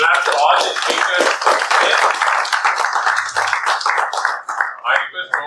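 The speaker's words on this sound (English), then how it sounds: "So clap to all the speakers." An audience at a pre-election debate claps for the speakers, a burst of applause that runs under a voice and then thins out toward the end.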